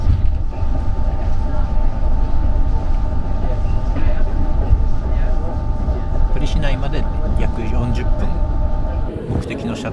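An RER B commuter train in Paris produces a loud, steady rumble and roar of rolling wheels with a constant tonal hum, ending in a screech and a slowdown, while people talk over it.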